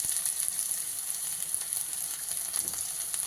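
Manchurian fries in a pan with green garlic, a continuous close, crackly sizzle heard alone at an even level throughout.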